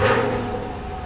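A 2017 Chevrolet Camaro SS V8 idles with a steady, close rumble that eases slightly in loudness after a brief initial surge.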